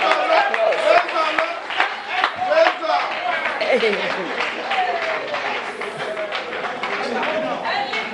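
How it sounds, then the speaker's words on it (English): A studio audience claps through a televised election-season talk show, with brisk, dense applause mixed with a speaking voice over it. "come on, give him some round of applause."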